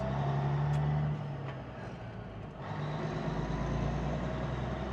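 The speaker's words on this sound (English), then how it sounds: "Jake brakes, listen to them things sing." A Peterbilt 359 truck's engine rumbles with a deep, steady low drone, dipping briefly before the Jake brake engine braking resumes its loud, continuous growl.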